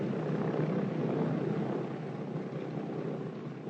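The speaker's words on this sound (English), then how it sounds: "Then they move onto the runway and take off." A military transport plane roars steadily on a runway as it takes off, a dense, loud engine drone that slowly eases in level, with no voices.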